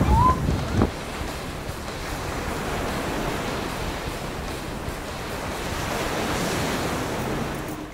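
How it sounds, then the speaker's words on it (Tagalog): Waves surge and break one after another against rocky formations along a rugged Samar coastline, a loud steady roar of surf with gusting wind buffeting the microphone, no voices. "sunod-sunod na ang paghampas ng alon"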